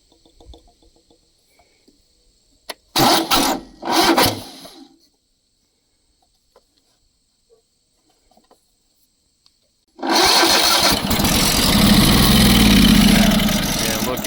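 An abandoned crane's engine, fed gas poured straight into the carburetor, sputters in two short bursts, falls quiet, then catches and runs loud and steady close by.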